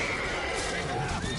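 A horse whinnies loudly in The Witcher 3: Wild Hunt, its neigh rising over a dense in-game soundscape of hooves and background clamour, with voices talking across the brief moment.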